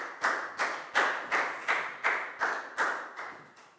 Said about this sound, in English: a big round of applause for net